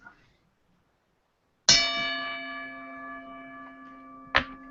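A single bright bell strikes and rings out with a long, shimmering decay, then a second sharp strike follows near the end.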